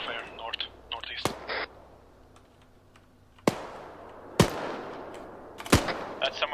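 Enemy gunfire in ARMA 3, several sharp isolated shots cracking out at intervals, some nearer and louder than others, with talk and radio chatter running underneath.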